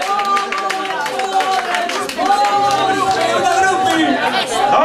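Crowd at an outdoor festival concert in Vigo clapping and cheering amid lively chatter, with voices talking and shouting over the scattered applause.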